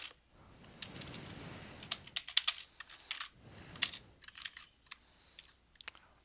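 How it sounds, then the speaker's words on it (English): Quick bursts of typing on a computer keyboard, clustered clicky keystrokes in uneven runs separated by short pauses, close and moderately quiet. "So just type rope length in there"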